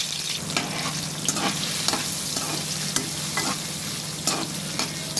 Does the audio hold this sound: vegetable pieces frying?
yes